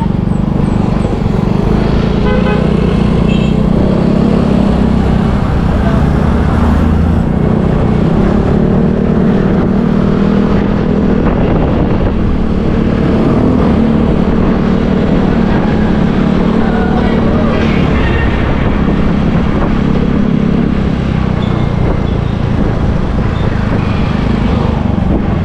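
Steady road traffic on a highway in the Philippines, a continuous low rumble of engines and tires with passing vehicles, loud and unbroken throughout with no one speaking.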